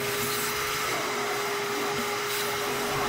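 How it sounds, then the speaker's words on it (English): Mini shop vac sucking up scraped charred debris from a Pit Boss grill's flame broiler, a loud, steady whining roar with a high tonal hum, close and unbroken. "use a mini shop vac to clean all the scrape bits up"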